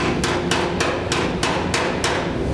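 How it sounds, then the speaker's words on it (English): Hammer blows on a sheet metal floor pan being flattened for plug welding on a Dodge Challenger, seven sharp evenly spaced strikes ringing over a steady shop background, no talking. "make sure you hammer the metal down before you weld"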